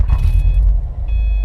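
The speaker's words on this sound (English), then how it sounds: "So let's go ahead and start the car." A Subaru WRX engine cranking and catching, a brief loud low rumble up close that settles into idle within about a second and a half.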